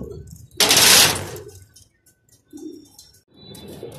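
Racing pigeons coo in short soft bursts near the loft, with a loud rustling wing-flap burst early on and a few quieter calls after.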